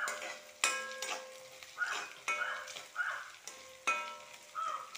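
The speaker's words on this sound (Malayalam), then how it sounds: "അതുകൊണ്ട് ഇടയ്ക്ക് ഇങ്ങനെ ഇളക്കി കൊണ്ടേയിരിക്കണം" A spoon stirs a thick tamarind-ginger mixture cooking in a pan, a soft sizzle broken by repeated scraping strokes and light clinks against the metal at an uneven, steady pace.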